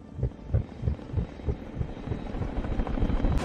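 A rhythmic low thumping pulses about twice a second from helicopter rotor blades in a film scene, blending into a steady rumbling drone toward the end.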